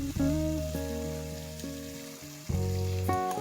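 Whisked yogurt goes into a sizzling tomato masala for egg tikka masala, producing a steady frying hiss under sustained tonal music, with a louder burst of sizzle near the end.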